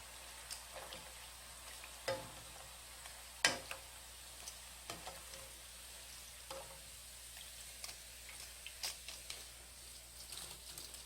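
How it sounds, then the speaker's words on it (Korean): Rice crust frying in oil gives a soft, faint sizzle broken by scattered crackles and pops, some sharper than others, under a quiet kitchen hum. "조금만 더 살짝 노른빛이 날 때까지 튀겨주면 됩니다"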